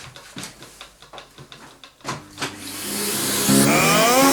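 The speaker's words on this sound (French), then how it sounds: "on va utiliser encore une fois la puissance de l'aspirateur pour évacuer ce qui reste bloqué ici dans la bouche d'évacuation" A vacuum cleaner sucks dust from a laptop's exhaust vent: a series of short clicking knocks, then the motor whines up into a loud, rising steady roar.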